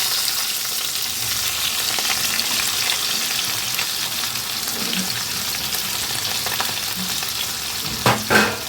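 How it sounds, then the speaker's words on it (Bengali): Cauliflower stems and other vegetables fry in oil with a dense, steady crackling sizzle throughout, with a couple of louder stirring scrapes near the end. "এখন সবজিগুলোকে আমি এইভাবে তেলের মধ্যে দু মিনিটের মতো একটু ভালো করে ভেজে নেব"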